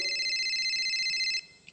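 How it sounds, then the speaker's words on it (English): A cell phone rings with a steady electronic tone that repeats rapidly for over a second, then cuts off abruptly, leaving quiet room noise. "What's that ringing sound?"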